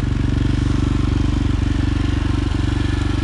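A quad bike engine runs steadily at close range, a loud rapid putter with a brief stumble partway through, stalling when throttled, no voices.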